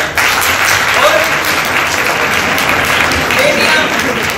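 A school audience at Nobel Academy in Narwana gives loud, sustained applause, a thick, even roar of clapping hands that holds close and strong for several seconds.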